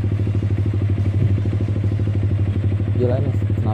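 A Yamaha R15 V3 155cc motorcycle fitted with an R9 racing exhaust idles loud and close, a rapid, even burbling throb, while someone talks over it.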